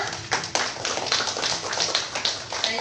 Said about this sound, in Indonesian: Beri tepuk tangan untuk kalian semua.